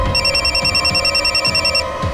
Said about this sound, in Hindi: सावंत का फोन था।